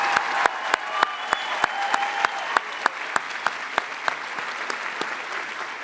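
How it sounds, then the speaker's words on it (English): Audience at a MassBay community college commencement ceremony applauds steadily, a dense wash of many hands with a few sharp individual claps standing out, sustained throughout. "You can applaud now."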